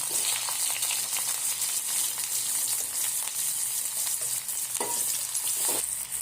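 Tomatoes added to hot oil with lightly browned garlic fry in a steady, continuous sizzle close by, with occasional stirring scrapes, for a home-style Marathi varan and paneer meal. Nobody speaks.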